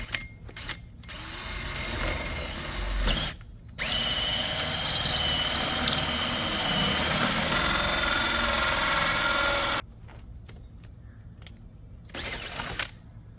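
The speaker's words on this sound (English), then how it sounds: "To fit the plug in, I've got to drill a 2-inch hole all the way through." A power drill with a 2-inch hole saw bores through the wall of a cargo trailer, a loud steady whirring grind lasting several seconds between short starts and stops, with no talk.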